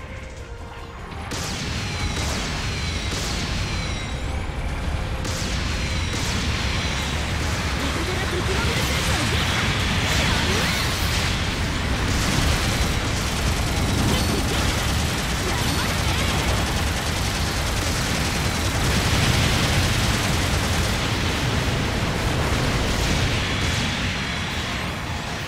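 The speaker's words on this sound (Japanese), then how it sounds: "支援砲撃来ます。" Support artillery bombardment in Gundam Battle Operation 2, a continuous barrage of heavy explosions, crashes and mechanical clatter that stays loud and dense throughout.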